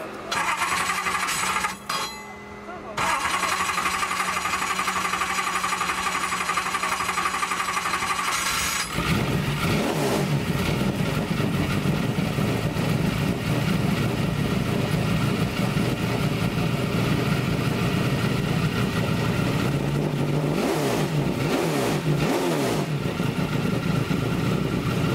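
A cold three-cylinder BMW engine cranks and fires up, then idles roughly before being revved repeatedly, loud and close throughout the recording.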